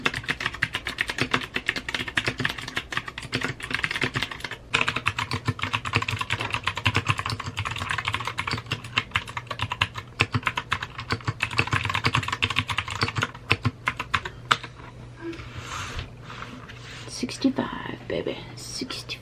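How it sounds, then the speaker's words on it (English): Fast, continuous clatter of keys on a computer keyboard during a typing test, close and crisp with brief pauses, under soft whispered speech. "So we're gonna do a typing test."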